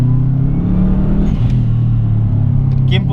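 Subaru WRX STI engine pulling steadily along a winding road, a loud, constant low rumble with a slight rise in pitch as it accelerates.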